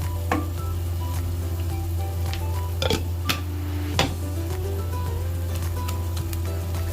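Tomato puree sizzles in a pan with onions and chillies while cooking a fish curry, a steady close frying hiss with occasional spoon scrapes and clinks against the pan over a low hum.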